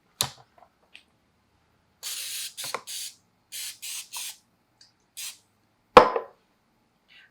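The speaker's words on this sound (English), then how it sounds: "we're going to spray it with a little Pam grilling spray" Several short bursts of Pam grilling spray hiss onto a waffle iron in a quiet room, followed by a sharp clatter and a brief rustle.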